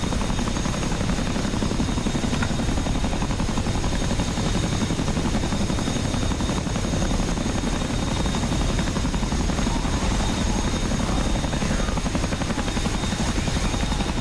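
Helicopter rotor in a video game, a steady loud chopping drone that continues unbroken throughout with no talking over it.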